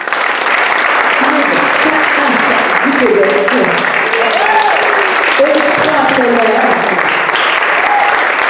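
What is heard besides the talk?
audience applause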